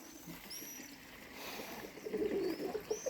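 Soft pigeon coos sound close by, low and murmuring, with faint chirps from other birds over a quiet background.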